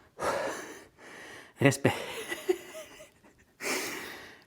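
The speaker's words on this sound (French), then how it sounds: "je remarque pas à quel point je suis essoufflé quand je le fais normalement" Heavy, out-of-breath gasping and panting during a gym workout, close and loud in bursts with pauses between them, while a voice speaks briefly.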